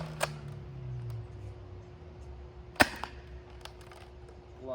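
A Nerf Fortnite pump blaster fires at a target in two sharp, snappy shots, one near the start and a louder one midway, with faint clicks and mechanical handling noises between them in a quiet room.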